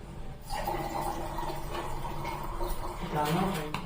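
Water pours from a vessel into a semolina (rava) mixture in a home kitchen, a continuous close splashing and gurgling fill sound lasting several seconds.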